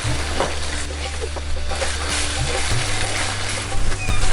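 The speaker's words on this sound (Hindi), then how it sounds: "और अब मैं इसको मिक्स करूँगी अच्छे से।" Spices frying in a pan for chicken karela, among them black pepper, cumin, salt, black cardamom, cloves and green chilies. A loud, continuous sizzle sits close, with scraping stirs running throughout and a steady low hum beneath, and no speech.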